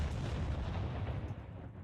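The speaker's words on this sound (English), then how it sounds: "I grumbled as I heard an explosion." A low rumbling explosion booms in the Taimanin video game, a dense blast that rolls on and slowly fades over about two seconds, with no talking.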